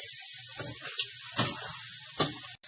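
Pork chops stood on their sides sear in a hot pan, giving a steady hiss with a few louder crackling pops, close and continuous, with no talking.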